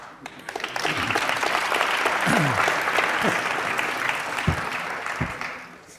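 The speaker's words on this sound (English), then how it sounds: "You don't have to applaud, trust me." An interview audience breaks into sustained applause, the clapping swelling and holding steady at moderate loudness before fading out, with a voice speaking briefly over it.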